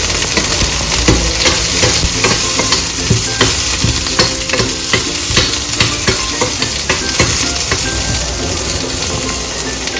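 Urad dal, onions and cumin stir-frying in a pan for peanut chutney give a loud, steady sizzle for ten seconds, with frequent scraping strokes of the spatula and no talk.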